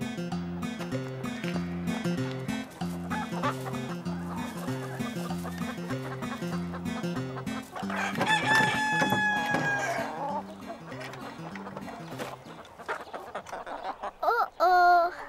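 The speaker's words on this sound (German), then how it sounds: "Wir füttern die Hühner jeden Tag." Cartoon chickens cluck and a rooster crows over steady music during a feeding scene in a German-language children's animated episode, with a brighter burst of calls midway.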